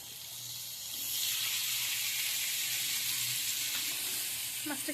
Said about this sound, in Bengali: মাছ এনে দেখো ভেজেও দিচ্ছে